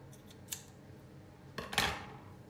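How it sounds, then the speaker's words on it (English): Scissors trim the ends of a baker's twine bow with a couple of sharp, close snips, the first short and the second a longer slicing cut, in a quiet room. "And we'll trim these ends so they're not quite so long."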